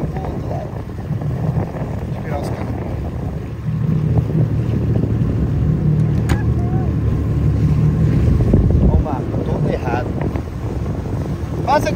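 A boat's engine rumbles steadily out at sea, climbing in loudness partway through as it speeds up, with wind buffeting the microphone, water rushing along the hull, and voices speaking over it.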